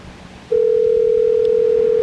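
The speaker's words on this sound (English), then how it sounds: "We listen to the phone ring." A telephone ringback tone during a call starts abruptly after a brief quiet pause, then holds as a loud, steady, pure tone.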